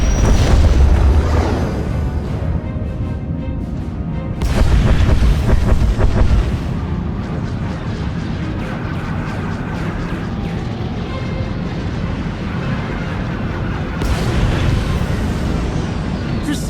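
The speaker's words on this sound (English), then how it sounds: "Proceeding with bombardment" Starship bombardment in a Star Wars: The Old Republic space battle thunders as heavy, rumbling booms, with loud bursts near the start, in the middle and near the end over a constant windy, roaring bed, with occasional voices.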